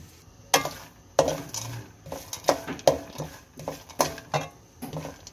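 Roasted ingredients for flaxseed pinni energy balls being mixed together in a pan, with a series of sharp clinks and scrapes from utensil against metal at an irregular rhythm, close by, with no talking.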